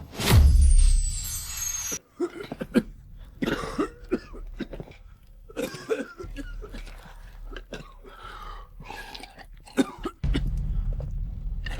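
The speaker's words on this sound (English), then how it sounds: "Once the coughing starts, it doesn't stop." Repeated harsh coughing and throat clearing from people stricken by a black cough outbreak, several bursts spread irregularly across the scene, close and fairly loud, with stretches of quieter gaps between fits.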